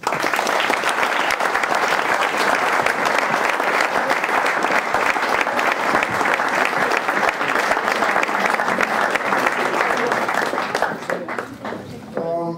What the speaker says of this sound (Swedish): Borås AIK, en stor applåd.